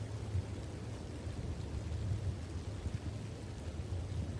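Low rumbling thunder rolls under steady, faint rain, a soft continuous storm wash with no distinct claps, and a brief louder knock at the end.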